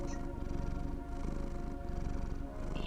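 A cat purrs steadily up close, a continuous low rumbling buzz that swells and eases in a slow breathing rhythm.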